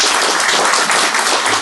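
Dense, steady applause from an audience at an academic symposium on Romanian Orthodox spirituality at Trinity College, welcoming a speaker; broad, even clapping with no voices over it.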